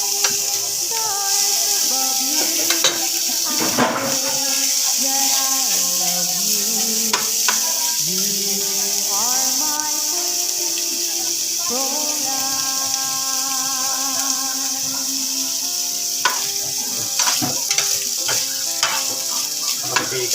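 Onion, garlic and ginger sizzle and fry steadily in a hot pan for pinapaitan, with occasional stirring scrapes and a continuous loud crackle throughout.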